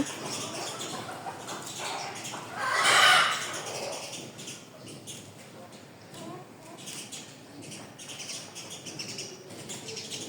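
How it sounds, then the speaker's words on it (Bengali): Chickens and a rooster in a coop give scattered clucks and calls, with one louder burst of squawking or flapping early on, over a steady background hiss and a voice talking. "পলোর মধ্যে অনেক বড় একটা মোরগ মারামারি করে"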